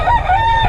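A young gamefowl stag crows once, loud and close, a short strained cock-a-doodle-doo with no talk over it.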